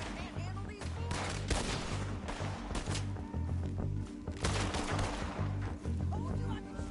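Gunfire crackles through a shootout in the video game Red Dead Redemption 2, with repeated close shots and volleys in an irregular rhythm over dense game sound and voices.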